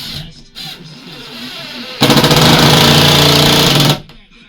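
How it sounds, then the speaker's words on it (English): A power driver whirs steadily for about two seconds as it sinks big screws into plasterboard in a home extension, loud and close after a quieter stretch of low background noise. "You just screw them on. Just some big screws straight in there with them."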